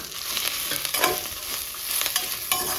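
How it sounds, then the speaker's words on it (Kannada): Pepper, garlic, coriander and cumin frying in a pan for a greens soup, a close, continuous sizzle with light stirring scrapes and no talk. "ಸ್ವಲ್ಪ ಮೆಣಸು, ಬೆಳ್ಳುಳ್ಳಿ ಮತ್ತು ಕೊತ್ತಂಬರಿ, ಜೀರಿಗೆ ಇಷ್ಟನ್ನು ಹಾಕ್ಕೊಂಡು ಫಸ್ಟ್ ಫ್ರೈ ಮಾಡ್ಕೊಳ್ಳುವ."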